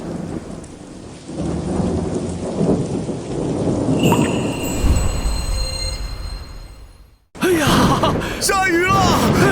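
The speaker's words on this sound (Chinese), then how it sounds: "终于下雨了！" Heavy rain pours steadily with rolling thunder during a drought-ending downpour in an ancient setting, and voices shout excitedly over the roar; a brief near-silent gap breaks the sound before the rain and voices return loudly.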